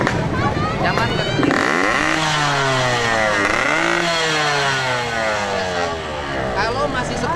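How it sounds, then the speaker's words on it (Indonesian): A motorcycle with a loud aftermarket exhaust, stopped at a roadside stall, roars and revs hard, its engine pitch sweeping up and down repeatedly, loud and close, with voices talking over it. "Coba nyalain motornya."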